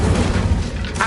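Fiery spell blasts in the Hogwarts Legacy video game, a dense continuous roar of booming explosions and crackling fire lasting about a second, loud and close with no talk.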